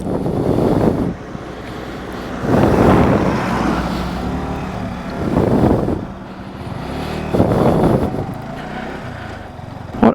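A 2025 Yamaha R15M Monster Energy Edition motorcycle is ridden, its engine surging in several loud waves of rising and falling power, with steady wind rush over the microphone in between.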